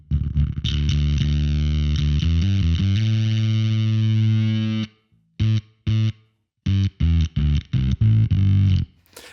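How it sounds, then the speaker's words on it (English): Heavily distorted bass fuzz with a sputtering, gated zipping texture: a long sustained note, then short choppy bursts cutting in and out, loud and upfront. "If I turn that all the way up, we get that over-biased kind of zipping thing."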